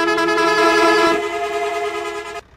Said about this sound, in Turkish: Korna da iyiymiş.